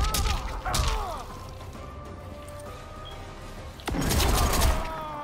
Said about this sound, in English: You shot your pistols.